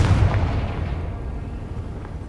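A Confringo spell blast in Hogwarts Legacy, heard as a deep, rumbling explosive boom that swells at the start and then rolls on as a sustained low roar through the rest of the moment, with no talking.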